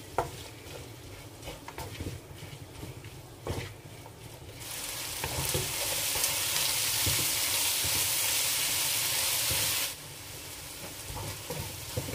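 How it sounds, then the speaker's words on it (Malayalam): Slit green chillies and chopped tomatoes sauté in a pan for a biryani, with stirring scrapes and clinks over a sizzle that swells to a loud, steady hiss in the middle, then eases back. "8 പച്ചമുളക് കീറിയതും 2 തക്കാളി മുറിച്ചതും നന്നായി വഴറ്റാം."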